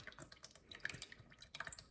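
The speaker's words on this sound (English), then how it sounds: "pour the juice from my peeled tomatoes" Juice from peeled tomatoes is poured into a pot, heard as faint, quiet drips and small liquid splashes scattered irregularly, close by with no voices.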